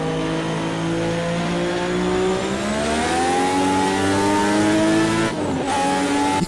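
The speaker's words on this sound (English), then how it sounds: "this is what turbo lag feels like." A Lotus 98T Formula One car in Project Cars 2 revs steadily and loud, the turbocharged engine's pitch climbing slowly as turbo lag gives way to spool, before a sharp gear change near the end.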